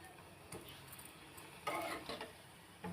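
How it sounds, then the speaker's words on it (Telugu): Gulab jamun frying in hot ghee over a low flame, a soft continuous sizzle broken by a few short scraping stirs against the pan, close and fairly quiet. "నెయ్యి వేడయ్యాక ఇలా వేసుకోవాలండి. లో ఫ్లేమ్లో వేయించుకోవాలండి."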